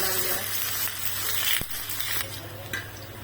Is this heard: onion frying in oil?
yes